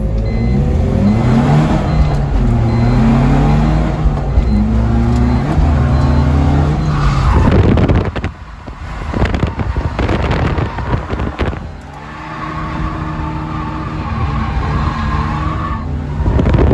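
A BMW 320D diesel car drifting on the back track at a drift event, engine roaring near and loud with long tyre squeals and skids that die away, then another pass builds up.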